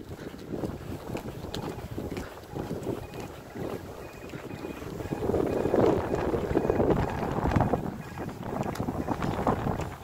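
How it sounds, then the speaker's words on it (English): Strong outdoor wind buffets the microphone, giving constant loud rumbling gusts near the home ground of Huddersfield Town AFC. "Sorry about the wind as well"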